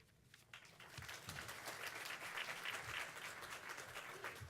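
An audience at an MLK celebration applauds steadily, many hands clapping in a dense, sustained wash, fairly distant and even throughout.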